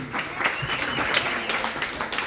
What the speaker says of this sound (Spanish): Un aplauso para don Johnny, por favor.